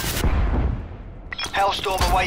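Hellstorm missile strike explosions in Call of Duty Black Ops 4 open with a loud blast that rumbles and fades, followed by a voice talking over the tail of the boom.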